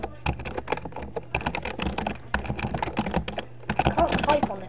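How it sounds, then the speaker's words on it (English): Rapid computer keyboard typing, a dense run of close, sharp key clicks with brief pauses, while Minecraft gameplay plays faintly underneath. "I can't type on this keyboard."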